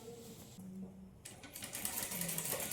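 Sewing machine attaching sleeves to a plain blouse, a close mechanical whir that starts and stops in short spurts with faint handling in between.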